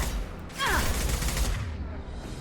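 Gunfire from Blue Suns and Vulture mercenaries in Mass Effect 2 crackles in a rapid, dense volley that swells suddenly and then holds, mixed with a voice speaking amid the firefight.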